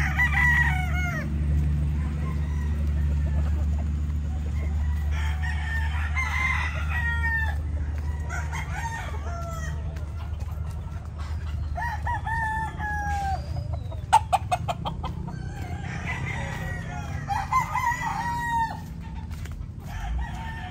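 Pullets and hens selected for breeding cluck and crow throughout, several birds overlapping at moderate distance over a steady low hum, with a few sharp clicks partway through.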